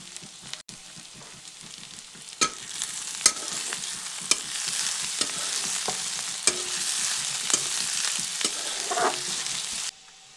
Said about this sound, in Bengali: আদা রসুনটি কিছুক্ষণ ভেজে নেওয়ার পর